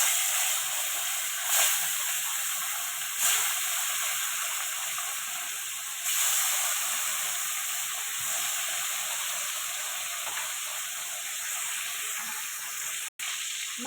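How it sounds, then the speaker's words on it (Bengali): Boal fish frying in hot mustard oil, a continuous close hiss and sizzle with faint soft bumps every couple of seconds, steady throughout with no talk. "তেল দিয়ে দিলাম মাছটা ভেজে নেওয়ার জন্য"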